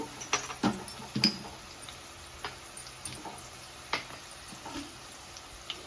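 Onions and tomatoes frying in a pan on a home stove for egg biryani, a quiet sizzle with scattered small pops and clicks from close by.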